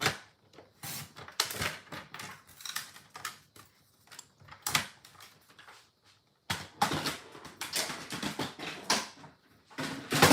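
Scissors or a paper trimmer slice white cardstock in half, a series of close crisp snips and clicks in uneven bursts with short pauses between.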